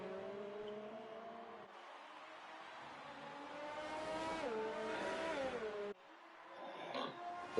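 Formula 1 cars racing at Monza, Italy, in the game F1 2019, their engines whining with rising and falling pitch as they shift gears, loud and continuous with no talk.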